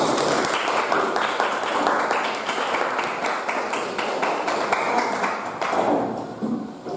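A classroom of students clapping together, a lively, slightly uneven round of applause that carries on for several seconds before fading near the end.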